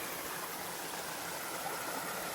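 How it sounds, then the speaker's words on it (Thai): A waterfall pours into a deep stream pool with swirling water, giving a steady, full rushing wash that stays close and continuous for the whole stretch, with no voices over it. "เป็นน้ำตกไหลลงมาเลยพี่เอฟซีครับ"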